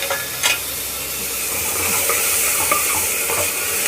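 Roughly chopped medium tomato hits onions frying for dhaba-style urad dal, bringing a loud hiss and a couple of utensil clacks at the start, then an even, close sizzle with light stirring and no talking.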